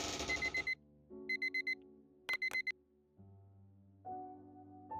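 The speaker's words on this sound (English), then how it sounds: "you will be woken up by the alarm" An alarm clock rings in short, rapid electronic beeping bursts, several quick groups of pulses separated by pauses and shifting tones, loud and alone with no talk.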